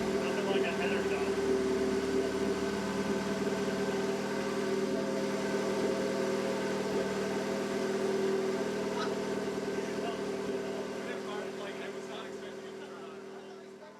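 A K-swapped Mazda Miata engine running just after its first start, a steady, even idle hum held close for the whole stretch, slowly fading near the end, with people talking over it.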